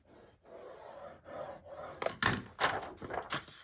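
Paper being scored for a rolltop bag, soft scraping strokes in a short series, quiet at first and then a few louder, sharper rubs close by near the end.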